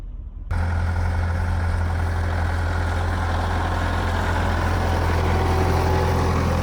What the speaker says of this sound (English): Now we are moving the truck.